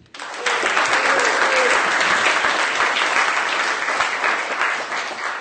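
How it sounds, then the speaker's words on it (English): Audience applause for a speaker at a Skeptics in the Pub talk, starting abruptly and rising to a full, sustained clapping that tapers slightly toward the end. "Big round of applause, please, for Mark Edon."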